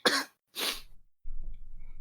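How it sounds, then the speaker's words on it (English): Two harsh, loud coughs from a sick person behind a door, in quick succession, followed by a faint low shuffling rumble. "You hear a loud coughing sound from the door."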